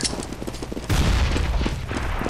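CS:GO gunfire rattles in rapid bursts, then a louder, heavier volley swells with booming low end, dense and close with no voices.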